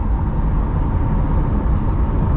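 Loud, steady roar of a motorcycle on a California highway, droning continuously at close range with no gaps or talking.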